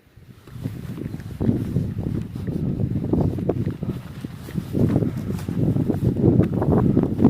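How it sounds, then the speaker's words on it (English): Wind blowing outdoors near small flowers, a steady low rumbling gust with wind buffeting the microphone, rising and falling slightly but continuous throughout, with faint rustling underneath. "Bit windier here."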